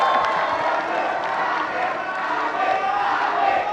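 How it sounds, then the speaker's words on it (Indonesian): Audience at the 2019 Indonesian vice-presidential debate breaks into sustained applause and cheering, a dense, steady crowd roar with shouts and whoops running continuously throughout. "Sekarang boleh tepuk tangan. Tepuk tangan."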